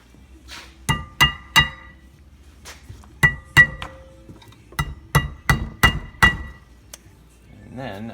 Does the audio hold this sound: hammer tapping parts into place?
yes